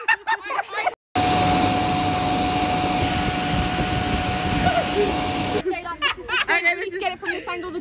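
A hair dryer blows with a steady, loud roaring whoosh for about four seconds, cutting in and out abruptly, with people chatting before and after.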